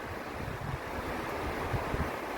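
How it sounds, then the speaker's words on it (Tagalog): Natural water sound with waves washing steadily, a continuous broadband rush of surf and wind at moderate level, with no voices. "yung magandang natural na tunog ng tubig"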